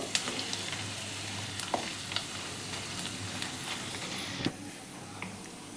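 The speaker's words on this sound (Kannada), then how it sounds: "ಸ್ವಲ್ಪ ಇಂಗು ಒಂದು ಅಷ್ಟು ಬಿಳಿ ಎಳ್ಳು ಇಷ್ಟು ಚೆನ್ನಾಗಿ ಫ್ರೈ ಮಾಡ್ಕೋಬೇಕು" Asafoetida and white sesame seeds fry in a hot pan with a bright, dense crackling sizzle, broken by a few light clicks and spatula taps, close and steady throughout.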